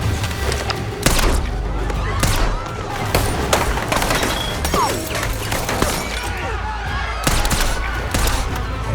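Gunfire shootout in a dramatic film scene, with dense bursts of shots and crashing impacts over a loud, continuous background of action and score, some voices mixed in.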